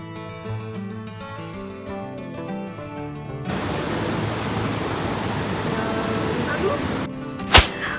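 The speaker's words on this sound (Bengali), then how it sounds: "দেখলাম বৃষ্টির আওয়াজ আর সাথে নদীর গর্জন" Rain and the roaring Rangeet river near Bijanbari, Darjeeling, a dense broadband rush of falling water and river noise that follows a stretch of music and runs on steadily, ending with a sharp knock.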